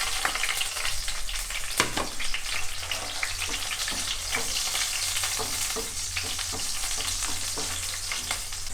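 Cinnamon, spices and green chilies fry in hot oil for a North Indian chicken curry, a constant close crackling sizzle broken by scattered clicks and scrapes of stirring.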